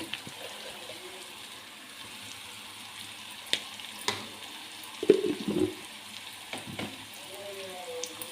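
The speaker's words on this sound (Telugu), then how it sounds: "టమాటా పీసెస్ మొత్తానికి పట్టే వరకు కారాన్ని మొత్తం మిక్స్ చేసుకోవాలి" Chili powder being stirred into tomato pieces frying in a pan produces a soft, low sizzle, broken by several scraping clinks and bumps from the spoon, the loudest cluster about two-thirds of the way through.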